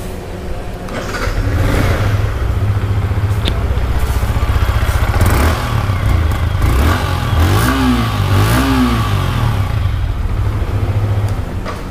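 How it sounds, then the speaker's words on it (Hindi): A Yamaha R15 V4 motorcycle starts up close by and idles loudly, and its exhaust climbs through a couple of sharp revs before it settles back down. No one talks over it. "बाकी एक बार मैं आप लोगों को इसकी एग्जॉस्ट नोट सुना देता"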